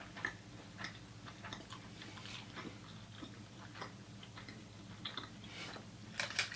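Chewy Korean rice cakes are being chewed close to the mic, with soft, sticky mouth clicks and smacks that come and go at an uneven pace over a low steady room hum, and nobody speaks.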